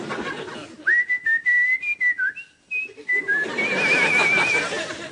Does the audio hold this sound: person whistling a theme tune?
yes